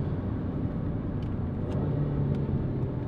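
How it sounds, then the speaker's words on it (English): A Kia Stinger GT2's engine and exhaust hum inside the moving car while it shifts gears, a steady low rumble with road noise and a few faint clicks. "As you can hear, the noise is not bad actually. It's a pretty good noise for this kind of car."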